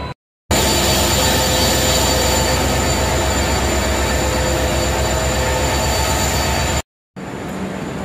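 The diesel locomotive of the Poorna Express gives a loud, steady rumble with bright metallic squealing overtones. The sound runs for several seconds before cutting off abruptly.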